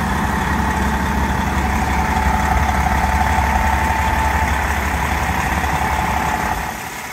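A 2008 MCI D4505 coach bus with a Detroit Series 60 diesel engine sits idling, a steady low rumble with a faint constant whine, holding even loudness before easing slightly at the end.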